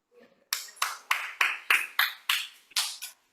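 Audience applause at a Toastmasters club meeting: about nine sharp, evenly spaced claps in a steady rhythm, close and clear, each ringing briefly in a quiet room with no talk over them.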